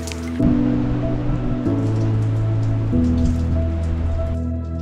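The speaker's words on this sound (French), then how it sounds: "C'est la pause sous la pluie" Steady rain patters on a surface on Quebec's Côte-Nord, a dense wash of drops continuing throughout, with faint tonal music or hum underneath.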